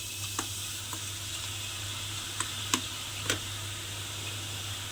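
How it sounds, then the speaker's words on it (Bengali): Badam jhuri, a fried gram-flour snack with peanuts, frying in hot oil: a steady faint hiss with a few sharp ticks and pops scattered over a low constant hum, no voices. "আবারও কিন্তু আমি তেলের মধ্যে এইভাবে দিয়ে ঝুরি ভাজাগুলো আবারও বানিয়ে নেব"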